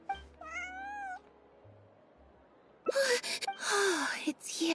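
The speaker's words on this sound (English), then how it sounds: "Meow." A cat in the video game Genshin Impact gives a clear rising-and-falling meow, then after a quiet gap lets out longer, louder yowling cries with breathy edges.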